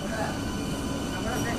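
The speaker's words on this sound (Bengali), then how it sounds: "ঠিক রাইট টাইমে কিন্তু ট্রেন ছেড়ে দিল পাঁশকুড়া থেকে দীঘায় যাওয়ার উদ্দেশ্যে" A passenger train leaving Panskura bound for Digha rumbles steadily from inside, a continuous low rolling roar with speech over it.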